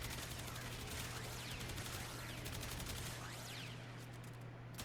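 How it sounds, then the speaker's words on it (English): A Tiberon Prime rifle in Warframe fires at a rapid, unbroken pace: dense streams of gunshots that stay fairly quiet and steady throughout, with no talking over them. "the fire rate is going to be really insane on this one, because this is already a rapid fire weapon"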